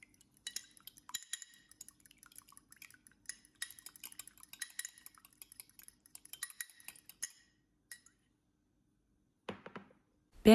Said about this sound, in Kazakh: Келесі 2 орташа жұмыртқаны осындай ыдысқа жарып, үстінен тұз қосамыз да, кішкене араластырып аламыз